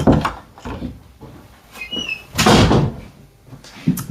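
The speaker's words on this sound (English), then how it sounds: "Our front door popped open." A front door pops open with a clunk and rattle, close by, among other household knocks and shuffling.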